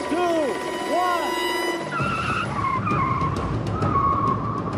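A race car launches off the start line with loud tire squeal and skidding, the engine roaring close and steady under a brief shout.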